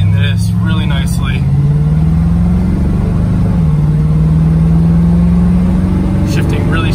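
Engine of a 1974 Chevrolet Corvette running under load, a loud steady hum whose pitch climbs, drops at a gear shift and climbs again, with someone talking over it.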